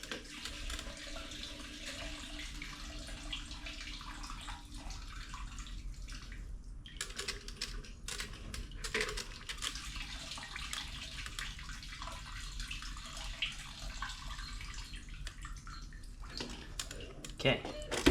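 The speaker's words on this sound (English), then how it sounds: "We'll let the gas that's in the pump drain out." Gasoline trickles and drains steadily out of an old fuel pump removed from a Toyota Tundra, a continuous liquid pour with faint drips running close by for the whole stretch, with a voice talking over it.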